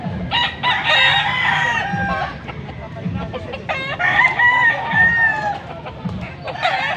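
A young gamecock in Pampanga crows repeatedly, loud and close, with clucking between the calls and some talk in the background.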